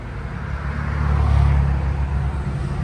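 The Blue Flame six-cylinder of a 1954 Chevrolet Bel Air rumbles in a loud, low, continuous drone, swelling slightly in the middle as if heard from inside the moving car on a rural road in Pike County, Kentucky.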